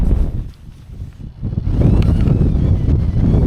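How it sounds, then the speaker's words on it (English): Strong gust of wind buffeting a campsite in windy conditions, loud broadband roar that swells and sustains after a brief lull, rumbling steadily under the mic. "So we've had a gust there, 17 mile an hour, 16 mile an hour."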